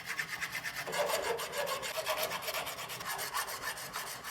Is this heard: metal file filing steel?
yes